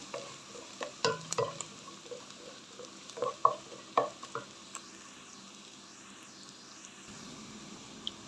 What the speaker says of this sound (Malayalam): അത് നന്നായിട്ട് കുറച്ച് ഒന്ന് വരട്ടെ കുറച്ചുകൂടി ആവാനുണ്ട് നന്നായിട്ട് ചുവന്ന് വരട്ടെ